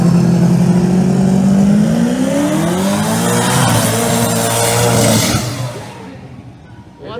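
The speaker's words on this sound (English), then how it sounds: "Thing sounds like a jet car when it leaves" A Pro Mod drag car with a small-block engine and a single 118 mm turbo launches at a drag strip with a loud, close roar. Its pitch climbs in a sweeping whistle-like wail, then fades quickly as the car pulls away.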